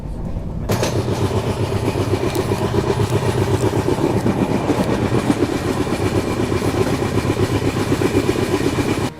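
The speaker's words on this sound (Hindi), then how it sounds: "नागालैंड में हम एंटर कर चुके हैं और दीमापुर रेलवे स्टेशन में अपना अराइवल हो रहा है।" Train pulling into Dimapur railway station in Nagaland, a loud steady rumble with rhythmic rattling of the cars that starts abruptly and continues without talk.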